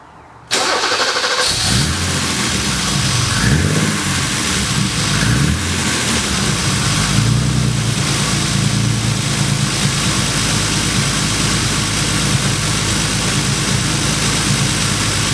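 A BMW 635csi with a newly installed ECUmaster Classic engine management cranks briefly, fires up and settles into a loud, steady, smooth idle close by, with no talking.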